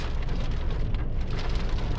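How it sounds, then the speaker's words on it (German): Hail pelting down during a storm, a dense, continuous rattling roar of stones hitting surfaces close by, loud and steady throughout with no talk. "das ist übelst Hagel"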